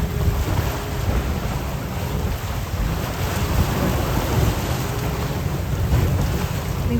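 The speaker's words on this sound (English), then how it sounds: "we have shut the engines off and we are sailing" Steady wind rushes over open water, with waves and water noise around a sailboat crossing the Gulf Stream from Fort Lauderdale under sail; no engine is audible and nobody speaks.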